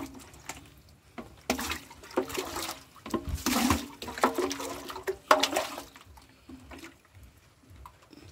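Water being fetched and scooped, heard as irregular sloshing and splashing bursts of moderate loudness, some close and strong, others fading to quiet dribbles between them.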